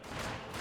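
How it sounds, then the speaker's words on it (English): Rapid gunfire striking sandbags in Company of Heroes 2, a dense, continuous burst of overlapping shots filling a brief moment at close range. "This gun hitting the sandbags."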